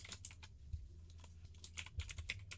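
Quick keystrokes tapped on a computer keyboard, irregular clicks in short bursts, fairly faint and close with a low steady hum underneath and no voices.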